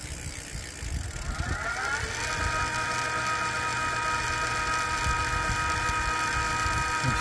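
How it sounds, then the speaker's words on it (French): An electric bike's mid-drive motor in the bottom bracket running and revving up, a steady whirring whine that rises in pitch during the first two seconds then holds a constant drone with a faint mechanical rattle. "Le moteur est dans le pédalier, donc"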